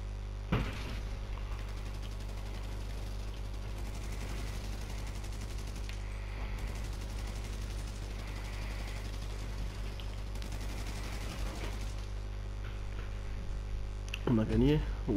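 Gunfire in GTA 5 Online, bursts of rapid shots over a constant low hum, with a player talking over the action.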